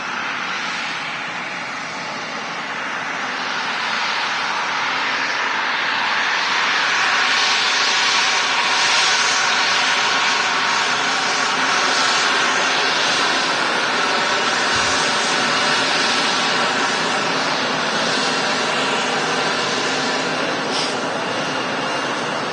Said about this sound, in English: KLM City Hopper in from Amsterdam Schiphol Airport.